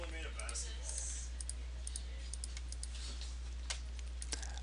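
Faint, sparse mouse clicks at a computer while working in a paint program, scattered light ticks over a quiet steady hum.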